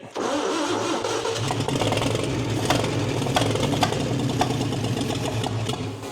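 A Pontiac engine cranking with no fuel, a loud, steady, rhythmic churning of the starter that runs on for several seconds without catching, close by and with no talking.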